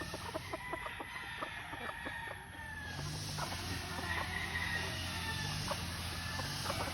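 Gamefowl roosters cluck at a game farm in Tagum City, with repeated short calls from several birds over steady yard noise, some nearby and some farther off, and no talk.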